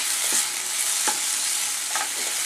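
Coriander powder roasts in a pan while being stirred for a Kerala egg kuruma, with a constant close sizzle and a few sharp spatula scrapes.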